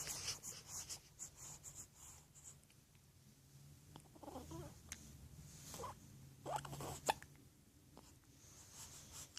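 A small toddler hiccups while sitting on an adult's lap indoors: several soft, brief hiccups at irregular intervals, faint and close, with no talking over them.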